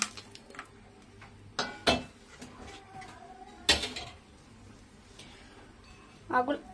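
Fried potatoes go into a pan for a soybean pulao, with a few sharp clanks and scrapes of utensils against cookware between quieter stretches.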